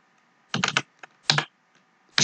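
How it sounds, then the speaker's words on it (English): Bursts of typing on a computer keyboard while writing an HTML form, close and crisp clusters of rapid key clicks separated by short pauses. "Let's find curly braces on my keyboard."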